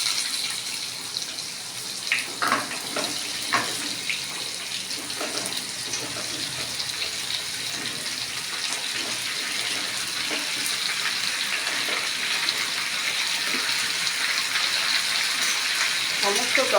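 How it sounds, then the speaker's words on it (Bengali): Vegetables, including stalks for a mixed Katwa-style prawn curry, dropped into hot oil with panch phoron and onion, raising a continuous hissing sizzle with a few clattering drops near the start. "এবার আমি আস্তে আস্তে তরকারিগুলোকে ছেড়ে দেবো"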